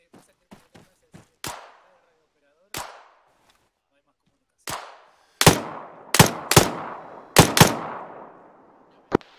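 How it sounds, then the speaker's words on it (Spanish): Gunfire in the military video game Arma 3: sharp single shots, sparse and distant at first, then louder, closer reports in quick pairs and bursts with short echoing decays. "yo escuchamos disparos."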